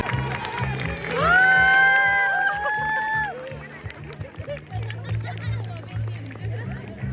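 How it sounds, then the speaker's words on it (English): A crowd of children and parents cheering and shouting at a school sports day race, with loud rising voices, calls and clapping, and people talking nearby under a steady rhythmic beat. "Let's cheer for them."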